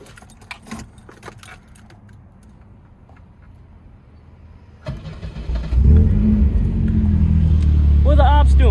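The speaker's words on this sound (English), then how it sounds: "let her run one last time" A 1984 Volvo 242 with a B230 engine cranks and fires up after keys jangle nearby, then settles into a loud, steady idle close by.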